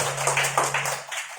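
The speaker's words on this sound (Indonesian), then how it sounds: "Tepuk tangan dulu bagi Tuhan." Congregation clapping hands together during a church service for elderly members, a short burst of several quick claps, fairly close, over a brief low hum.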